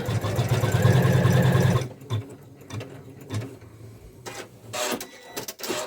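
An embroidery sewing machine stitching a quilt block runs steadily and loudly for about two seconds, then stops, leaving scattered clicks and soft mechanical taps.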